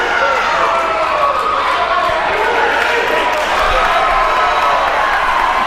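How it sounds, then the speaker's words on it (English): A wrestling crowd roars and cheers without pause at a match between power wrestlers, a loud, dense wall of voices filling the whole stretch, with arena noise and scattered shouts mixed in. "Crowd firmly in favor of Blake Hall."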